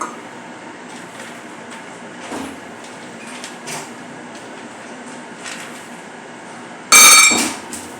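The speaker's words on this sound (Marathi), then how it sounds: "आता घालूया बदाम" Almonds tumble into a hot roasting pan at close range, a sudden loud rattling burst that quickly fades, following a stretch of low background kitchen noise.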